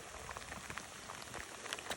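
Rain falls steadily outdoors at a shooting range during a handgun demonstration, a soft, even patter of drops with faint scattered taps, fairly quiet, no voices.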